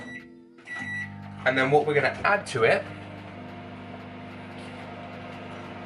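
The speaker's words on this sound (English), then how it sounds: "I'm gonna put it in the microwave, and that'll go on for a minute" A microwave oven hums steadily in the background while a person talks briefly over it.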